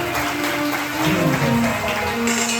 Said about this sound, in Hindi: हालेलुया, जोरदार ताली बजाकर उसका धन्यवाद करें।